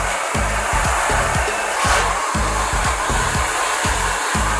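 Hair dryer blowing steadily and loudly up close while hair is styled with a brush into Farah-style curls, a constant airy roar with rhythmic repeated brushing strokes underneath, no talk.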